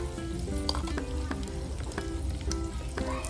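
Surmai fish sizzling in a hot pan with garlic, a steady crackling fry with small pops and occasional stirring scrapes, close and continuous.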